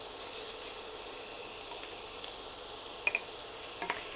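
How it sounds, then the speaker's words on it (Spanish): Onion and garlic sautéing in a frying pan, a steady soft hiss of frying with a few faint pops and clicks, close but quiet, no talking. "Y lo vamos rehogando hasta que se nos ponga la cebolla transparente"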